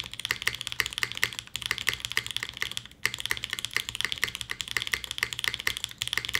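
Rapid, continuous typing on a mechanical keyboard fitted with lubed Obscura switches, the dense clicky keystrokes sounding close and slightly scratchy, with a short pause midway.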